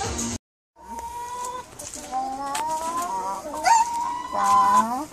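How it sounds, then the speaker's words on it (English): Chickens on a farm cluck and crow in a busy, overlapping run of calls, fairly close and moderately loud, with a brief silent gap near the start. "Look at all those chickens."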